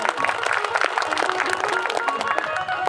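Dense, continuous clapping from a large crowd at a Gondi religious gathering in Pathari Kala village, loud and close, filling the whole stretch without a break.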